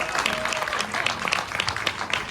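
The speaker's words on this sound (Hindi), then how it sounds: "पैसा वसूल परफॉर्मेंस के लिए जोरदार तालियां राजीव भाई।" An audience gives steady, moderately distant applause after a performance, a dense continuous patter of clapping with no voices over it.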